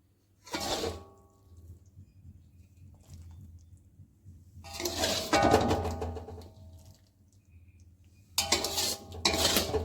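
A serving plate and metal utensils handled while plating home-cooked food: three separate bursts of clinking and scraping dishware, fairly close, with quiet pauses between them.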